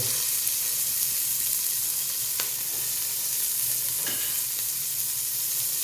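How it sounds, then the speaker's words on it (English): Potatoes fry in a hot pan with onion, giving a loud, continuous close sizzle, with a couple of brief scraping stirs of a utensil cutting through. "We'll give them a stir."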